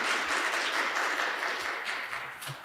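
Steady audience applause at a Korean AI forum as a speaker leaves the stage, moderately loud crowd clapping that holds evenly before gradually thinning out toward the end.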